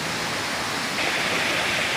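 Batlag waterfall in Tanay, Rizal, pouring as a steady, dense, hissing wash of falling water, close and continuous, growing slightly brighter midway, with no voices.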